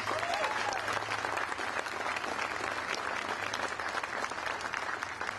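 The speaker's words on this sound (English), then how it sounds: "Another round of applause for the Ford family," Crowd at a ribbon cutting for the Ford Alumni Center applauds the Ford family, continuous even clapping at a moderate distance, with a faint voice briefly at the start.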